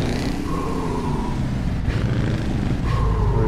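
A Scania truck in Euro Truck Simulator 2 slows on its retarder with a loud, continuous low engine drone and rumble, plus a couple of brief hissing swells; no voices.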